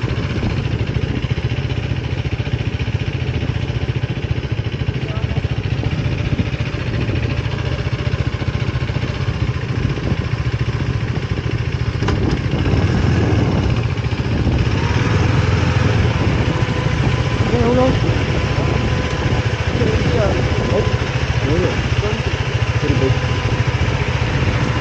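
A motorcycle engine runs steadily and loudly throughout as the bike rides up into a parking area on a hill trip toward Ooty, a constant droning hum with slight shifts in tone midway.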